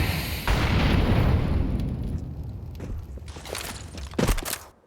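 Grenades explode in Counter-Strike on the Anubis map during a pro match: a loud, booming blast rumbles and slowly fades, followed by a few sharper pops and a final burst before the sound cuts off.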